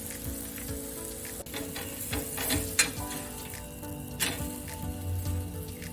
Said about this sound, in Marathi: खालची बाजू आपल्याला भाजून द्यायची